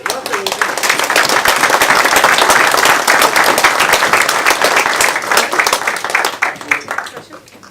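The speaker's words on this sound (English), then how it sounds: "let's give them a really great round of applause" An audience at a veterans' outreach forum claps loudly and steadily for several seconds, the crisp dense clapping tapering off at the end while voices murmur underneath.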